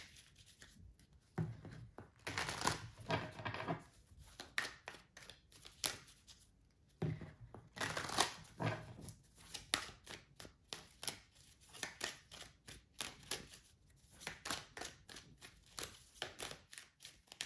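Tarot cards are shuffled and drawn for a reading, giving soft repeated riffling and flicking with bursts of denser shuffling and quiet gaps. The sound is close and gentle, with no talking.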